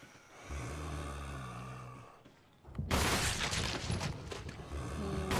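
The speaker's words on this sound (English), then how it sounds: "And then a few more shots." Gunfire in Resident Evil HD Remastered: after a quieter stretch with a low hum, a loud burst of sharp, crackling blasts hits and keeps ringing dense and harsh to the end.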